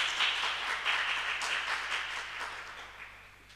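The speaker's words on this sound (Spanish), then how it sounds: "Aplausos, por favor." Audience applause at a ceremony in Isla de Maipo, a soft wash of many hands clapping that holds steady and then gradually fades, heard from some distance.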